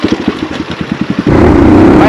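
A Suzuki RM250 two-stroke dirt bike on an off-road trail idles with a quick, rhythmic popping pulse, then suddenly revs hard into a loud, sustained roar, very close to the microphone.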